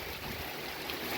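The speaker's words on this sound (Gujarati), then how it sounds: "વરસાદ શરૂ થઈ ગયો છે, માન બંધ હતો વરસાદ, પાછો ચાલુ થઈ ગયો છે વરસાદો." Heavy rain pouring in Jamnagar with water running and splashing, a steady dense broadband hiss that stays even and close throughout, with no voices.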